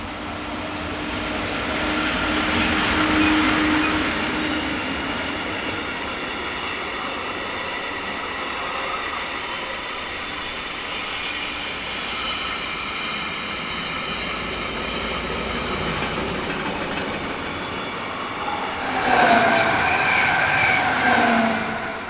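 Swiss train 11248 runs east on a main line near Olten, rumbling steadily past beside forest, with a sustained rolling roar and a burst of squealing wheels near the end.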